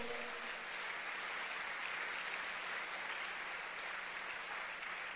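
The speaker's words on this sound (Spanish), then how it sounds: "¿Alguien le puede dar un fuerte aplauso a Dios?" A church congregation claps together during a Spanish-language sermon, a dense, steady burst of applause heard from a distance and lasting the whole time, with no talking over it.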